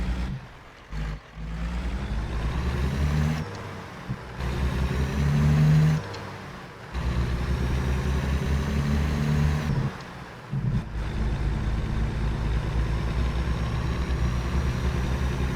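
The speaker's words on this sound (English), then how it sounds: "That engine brake really helps slow this little truck down with all that weight on the back." A Peterbilt 579 truck in American Truck Simulator, hauling heavy gravel and slowing on its engine brake, gives a steady low rumble with a few brief dips and a sustained loud middle stretch, alone without talk.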